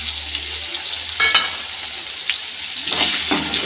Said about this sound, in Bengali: একটু ভেজে নেব আলুটাকে।